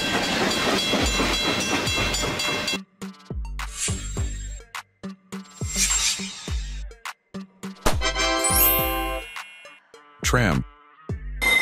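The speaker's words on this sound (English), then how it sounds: "Freight train. This type of train is used to transport goods instead of passengers." Freight train rolling along rails, with bursts of wheel and car noise in uneven clusters, rumbling thuds and some hissing, mixed with gaps and shifting tones.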